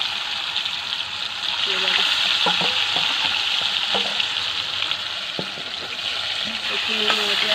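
Potato pieces fry in hot oil in a home kitchen after fish has been fried, giving a loud, continuous crackling sizzle close up, with occasional light clinks of a utensil against the pan.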